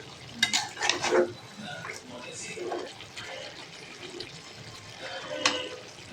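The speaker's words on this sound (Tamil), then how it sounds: "மசால் பொடியெலாம் சேர்த்து சிக்கனை நல்லா கொஞ்சம் மிக்ஸ் பண்ணி விட்ருங்க" Chicken with masala powder is stirred in a pot for a chicken kulambu, with a few metal clanks and scrapes near the start and a single later knock, while someone talks through most of it.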